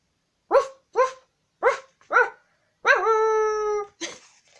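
A person imitates a dog, giving four short, loud yelping barks, then one long drawn-out howl-like bark and a final short yip, all close and alone.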